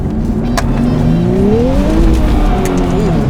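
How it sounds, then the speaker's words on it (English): A Nissan Fairlady 400Z launching with wheel spin, tires squealing in rising, wavering pitches over a loud engine roar as the car accelerates, close and intense. "Straight into some wheel spin there"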